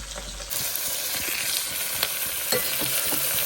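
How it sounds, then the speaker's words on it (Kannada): A pan of hot oil sizzles steadily as chopped tomato goes in, giving a dense, even hiss with a few soft stirring knocks, close and fairly loud. "ಟೊಮ್ಯಾಟೊ ಹಾಕೋಣ."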